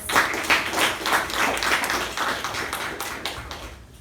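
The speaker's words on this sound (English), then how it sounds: "applause." A round of applause at a Toastmasters club meeting, a small group clapping at a moderate level in a loose, uneven rhythm that fades out toward the end.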